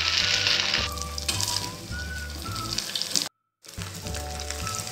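Shaped vadai made from leftover cooked rice frying in hot oil, a steady close bubbling sizzle broken by a brief gap of silence partway through, with no one speaking.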